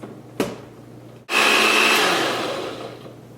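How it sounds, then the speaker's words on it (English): Blender blending strawberries and banana: a brief click, then the motor surges into a loud, steady whir that slowly eases off near the end, with no talk. "And then you're just gonna put it on the blender for 20 seconds."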